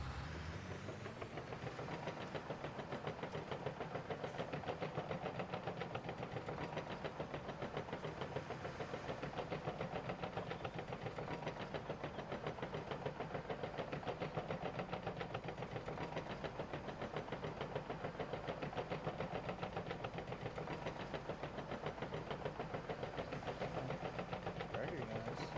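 A farm tractor's engine runs in a video game, a steady droning and clattering hum that holds unbroken and fairly faint throughout, with no pauses.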